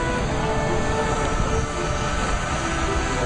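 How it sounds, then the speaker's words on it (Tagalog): Jet airliner carrying the US Secretary of State arriving at a Manila airport, a steady, loud engine roar that fills the short moment without pause. "Yan na yung aeroplano ni Secretary Clinton."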